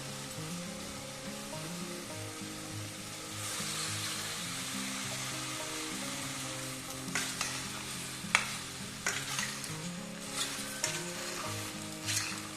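Pasta being mixed with cherry tomatoes in a pan, giving a steady sizzle with soft scraping stirs and a few sharper clinks near the end, over a low tonal hum that runs throughout.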